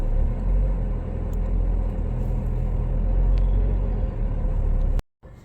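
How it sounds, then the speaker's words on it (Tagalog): A car engine left running while parked in cold, snowy winter weather, a steady low idling rumble held close and continuous for about five seconds before cutting off abruptly near the end. "Nagdadalawang isip ako, guys, na iwanan yung sasakyan ko na naka-on."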